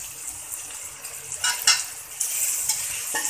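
Chopped capsicum cooking in a pan while Maggi noodles are being made, giving a steady, soft sizzle with occasional stirring and utensil scrapes, close and moderately quiet, with no talking.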